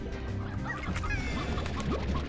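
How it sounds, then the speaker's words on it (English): Chickens and hens in the Slime Rancher game clucking and squawking in a busy, continuous flock, several birds overlapping at close range with no talk. "Oh, that's a lot of chickens."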